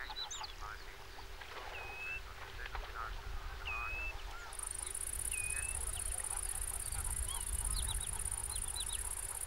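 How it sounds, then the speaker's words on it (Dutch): Greylag geese in the Dutch countryside give several short honks and calls amid a busy outdoor background of other birds, insects and a steady low hum, with a high whine joining midway. "De Nederlandse grauwe gans is geen trekvogel meer."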